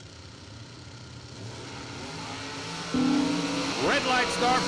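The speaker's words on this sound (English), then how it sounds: "The 2024 American Dragster, Huntsville 632. Big block Chevrolet" Big block Chevrolet engine in the 2024 American Dragster race car at a drag race, a distant steady drone under announcer talk that rises into a louder, sharper rev near the end.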